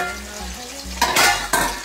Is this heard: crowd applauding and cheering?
no